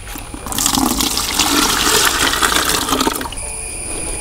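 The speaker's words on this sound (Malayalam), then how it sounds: "അത് നമുക്ക് ഇങ്ങോട്ട് ഈ ബക്കറ്റിലേക്ക് ഒഴിക്കാൻ നമുക്ക് കുറച്ചും കൂടി വെള്ളം ആഡ് ചെയ്യുവാണ്" Lime water for a homemade fungicide gushes into a bucket in a loud, steady splashing pour that stops abruptly after about three seconds, leaving a faint trickle.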